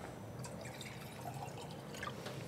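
Still water poured from a bottle into a container, a soft close trickle and dripping running steadily under room noise, with no talk over it.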